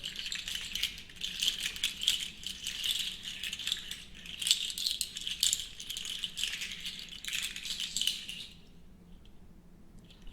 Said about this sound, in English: This is a Mapani shaker.